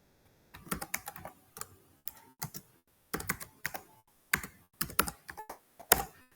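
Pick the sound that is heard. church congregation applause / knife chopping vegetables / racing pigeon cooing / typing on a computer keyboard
typing on a computer keyboard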